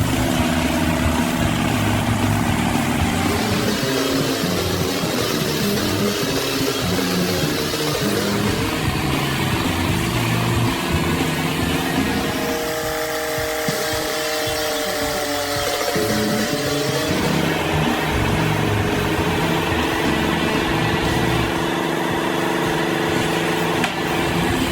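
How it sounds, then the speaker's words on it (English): A Carlton SP7015 stump grinder with a turbocharged diesel engine runs steadily and loud, its droning hum shifting in pitch as the machine works, with no voices over it. "Did I mention it's got a turbocharged diesel engine?"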